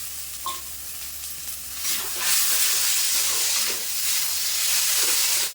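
Water hits hot frying masala with tomato, salt and turmeric for a Bengali rui fish head chorchori, setting off a loud, sustained hissing sizzle after a brief quieter stir, close and steady.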